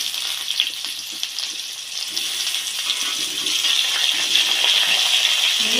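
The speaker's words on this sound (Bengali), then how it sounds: "দিয়ে আলুগুলো ভালো করে ভেজে নেবো।" Potatoes fry in hot oil with five-spice (panch phoron) for a potato and pumpkin curry, a steady bright sizzle with small crackles and pops that grows slightly louder, close and continuous, without any talking.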